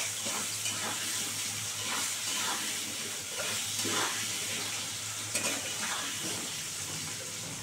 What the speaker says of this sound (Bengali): এবারে 2 মিনিট ধরে বন্ধুরা আলুটাকে লাল করে ভাজবো।